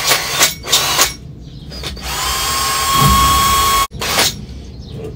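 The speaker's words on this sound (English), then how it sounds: "let's see how we can drill a little hole in this grommet." Small drill boring a pilot hole in a rubber grommet, with several short whirring bursts followed by one longer continuous run, loud and close.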